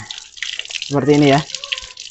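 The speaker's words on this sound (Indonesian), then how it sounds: "lalu kita bilas dengan air mengalir" Running water rinses an iguana cage, a steady splashing hiss with drips, while a voice speaks briefly over it.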